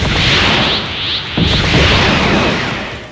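In a Dragon Ball fighting game, Broly's power boost activates with a loud, dense burst of roaring, rushing noise and a sharp crack partway through, surging continuously like an explosive whoosh.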